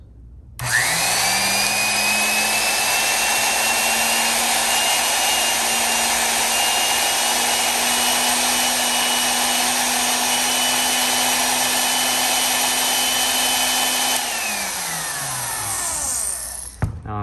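Vintage Cummins Model 336 electric drill running forward: a loud, steady whine that spins up after a click, holds evenly for many seconds, then winds down as the trigger is released.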